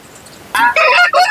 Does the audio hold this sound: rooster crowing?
yes